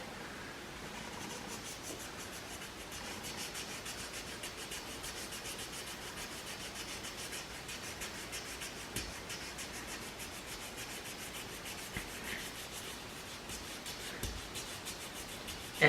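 Steady, soft rubbing of 2000-grit sandpaper on car paint over a chip repair, a continuous close hiss of back-and-forth strokes with no clear breaks, quiet and alone.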